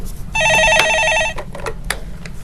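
A telephone in a broadcast studio rings for an incoming call with a bright electronic trilling burst, loud and close, followed by brief clicks and quiet background noise.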